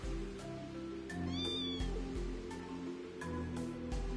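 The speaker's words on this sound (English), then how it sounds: "Aren't you a happy little kitty?" A contented cat meows several times, close and clear, over a steady bed of soft music and ambient hum in a guest house setting in the video game Trails into Reverie.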